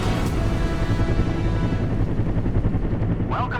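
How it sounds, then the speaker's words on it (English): A helicopter flies overhead during a rescue scene atop a tower, its loud, steady rotor drone filling the whole stretch with a dense, pulsing roar. "Look, there's a helicopter."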